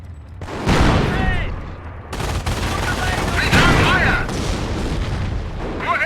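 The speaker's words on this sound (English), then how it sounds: "Notice the Panzer's slow rate of fire." A German Panzer tank in the World War II strategy game Company of Heroes fires heavy cannon rounds, with loud booming blasts and battle din layered around rapid gunfire in a busy combat mix, while voices call out.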